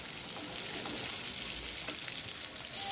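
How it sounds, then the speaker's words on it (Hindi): Finely chopped onion frying in a pan, a steady close sizzle and crackle with light stirring scrapes, no voices. "यहाँ पर मैंने एक प्याज लिया है जो कि मैंने बारीक कट कर लिया है और इसे मुझे अच्छे से फ्राई करने होंगे।"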